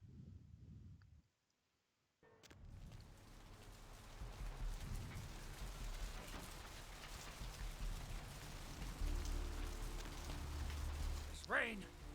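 Steady rain falling in a night city street in the video game Vampire the Masquerade: Bloodlines, a soft continuous hiss after a brief silent gap, with low ambient rumble and a voice speaking over it near the end.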